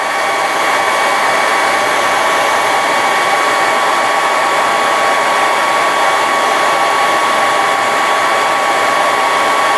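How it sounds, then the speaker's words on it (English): A hairdryer heats a plastic part of a 1/72 scale Sinanju model kit, blowing loud and steady with a constant whine and airy rush, unbroken and close with no talk. "So I have a hairdryer here, and it's gonna be pretty loud"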